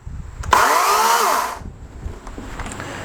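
A Kobalt 80V Max brushless electric chainsaw whirs up with a loud, close, high-pitched chain whine for about a second, then stops abruptly and leaves a quiet hum.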